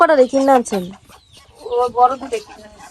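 Ducks and other fowl call in a village yard, two loud bursts of squawking and clucking close by, separated by a short quieter gap, with some voice-like calls mixed in.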